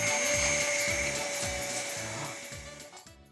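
A vacuum cleaner runs steadily up close inside a family home, a loud continuous whine with a rhythmic low pulsing beneath it, cutting off near the end.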